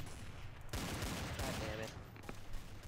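Pistol shots in the shooter Counter-Strike: Source, several sharp, fairly quiet cracks spread across a few seconds amid game noise, with voices talking in the background.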